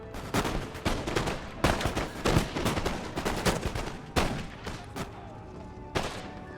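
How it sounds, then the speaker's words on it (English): Grenadier musket volleys crack out in the video game Empire Total War, with repeated sharp loud shots and ragged bursts of fire that overlap at an uneven rhythm across the battlefield. "The grenadiers will just shoot because they're tough guys."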